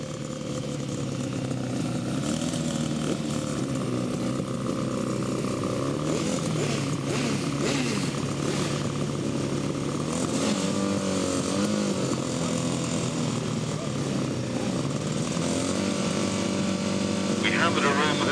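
Five sidecar motorcycle outfits race at the 2007 International Poacher grasstrack meeting. Their engines roar steadily and loudly throughout, with revs rising and falling as the pack runs, and a commentator's voice sits over the noise.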